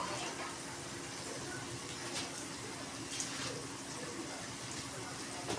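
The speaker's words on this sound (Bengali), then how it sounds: "দিয়ে এবার একটুখানি আমি জল দেবো" Water poured into a pan of cooking spices with ground cumin, a soft steady splashing hiss running under quiet background noise.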